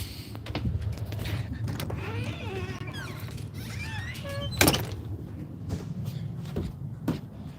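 A house door opens and shuts to let a dog in from outside, with a sharp clack near the middle over steady background hum, faint creaks and scraping, and scattered bird-like chirps.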